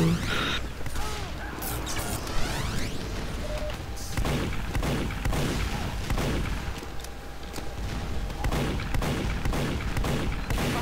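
Rapid, near gunfire from the Team Fortress 2 video game crackles almost without a break, layered with other in-game effects and booms throughout.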